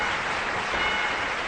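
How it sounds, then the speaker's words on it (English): A short, dense burst of steady applause from a group, close and full, lasting only a moment. "Give me a round of applause."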